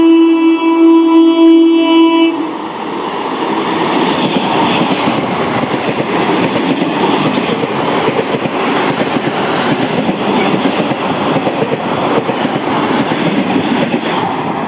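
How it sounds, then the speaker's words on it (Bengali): A Howrah-division local train races through Baruipara station at high speed: a brief horn sounds first, then a loud, steady roar of wheels and rushing carriages fills the rest, with no talking. "লোকাল ট্রেনের স্কিপটা জাস্ট দেখুন, হাওড়া ডিভিশনের আসছে জাস্ট দেখুন, আগুনের বেগে আসছে।"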